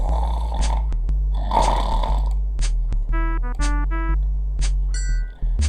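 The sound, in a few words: snoring in video game Quest for Glory 1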